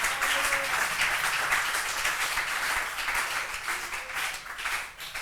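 A church congregation applauding and cheering at a worship service, a dense, sustained wash of clapping that swells and fades slightly toward the end.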